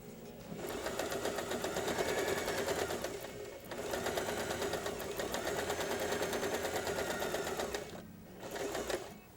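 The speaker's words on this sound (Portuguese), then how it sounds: "Aqui é meio pezinho de máquina. Retrocesso e vai até o final." A sewing machine runs in fast, steady bursts as it stitches a seam on a double-sided children's apron, with a brief pause for a backstitch before it resumes, close and even, with no talking.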